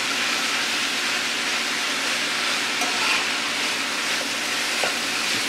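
Ground beef with carrots and onion being stirred in a hot pan, a steady sizzle with scraping spoon strokes against the metal, close and continuous, no talking.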